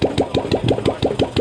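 Old Royal Enfield Bullet 350 single-cylinder engine just started and running close by, with a steady, evenly spaced thumping beat of about six firing pulses per second and no talking.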